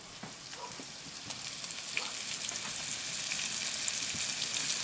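Flour-dredged chicken scallopine fries in a pan, a steady, close sizzle with scattered crackles and pops that grows slightly louder throughout, with no voices over it.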